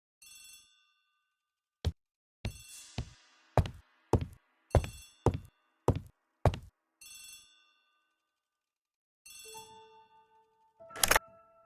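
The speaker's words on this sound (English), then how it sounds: "The telephone in the hall is ringing." Old-fashioned telephone bell ringing in a house hallway, several sharp repeated bursts of ringing in a steady rhythm, fairly loud and close, with no talk over it.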